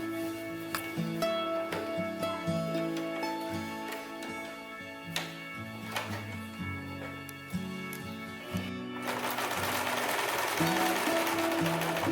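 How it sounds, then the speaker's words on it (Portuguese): A sewing machine stitches an apron in rapid mechanical bursts with short pauses, close and steady, its rhythmic motor whirr running through the whole stretch without talk. "E agora nós vamos para a máquina, passar uma costurinha aqui, ó, bem onde está o alfinete."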